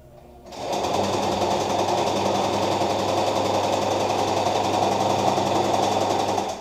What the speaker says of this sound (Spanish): nos vamos a la máquina. Vamos a coser.